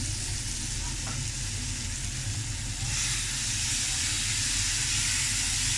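Tomatoes frying in a pan for a cheese omelette give a steady, close sizzle with a broad hiss that brightens and swells in the second half, carrying on without a break.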